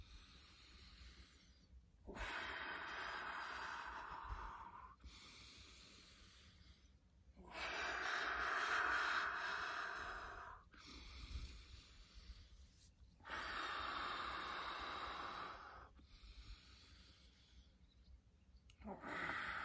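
Deep, slow breathing exercise: long hissing inhales and exhales alternate in a steady rhythm, each breath lasting a few seconds and separated by quiet pauses, close and alone.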